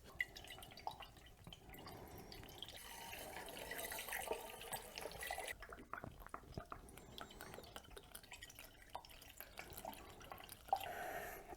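Liquid trickles and drips steadily while being poured into the engine of a Kohler 5E genset, leaking out around loose bolts; faint splashing and dripping continue with no talking, fairly quiet overall.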